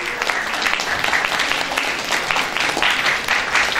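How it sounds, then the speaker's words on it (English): An audience at a literary festival gathering of students applauds, a dense, steady patter of many hands clapping loudly without pause. "we need to have applause, great applause for these wonderful,"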